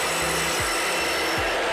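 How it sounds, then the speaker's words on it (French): A miter saw cuts through wooden boards, a steady whining hum with rhythmic bumps as it runs, loud and close, with no voices. "je vais pouvoir maintenant passer du mode scie table au mode scie angle."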